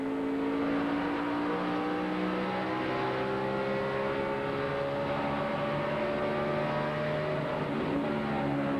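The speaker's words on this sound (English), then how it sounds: "You heard the engine, too, spluttering on the rev limiter." A race car engine screams at high revs, spluttering on the rev limiter, holding a steady droning pitch that stutters slightly, loud and continuous with no voices.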